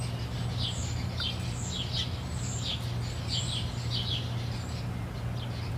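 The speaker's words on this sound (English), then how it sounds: "I record bird sounds like this from my yard" Several small birds chirp and sing in a yard in short repeated phrases, fairly close, over a steady low hum of background noise.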